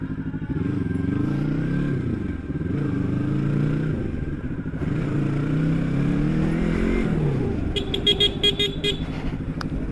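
Yamaha R25 motorcycle engine and exhaust while riding through city streets at night, a loud, steady droning roar rising and falling with throttle, with brief clattering and higher tones near the end.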